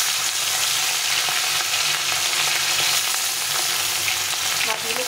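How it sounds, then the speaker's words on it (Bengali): Katla fish pieces fry in hot Fortune soybean oil, a loud, dense, continuous sizzle and crackle that holds steady throughout, close up and without any talking. "তো তেলটাকে একটু ভালো করে গরম করে নিলাম, নিয়ে মাছগুলোকে ভেজে নেব।"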